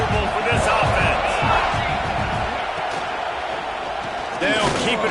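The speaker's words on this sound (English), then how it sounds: "This crowd trying to make life miserable for this offense." Stadium crowd in a college football video game, Miami against South Carolina, a steady loud roar filling the whole stretch with rising swells of cheering near the end.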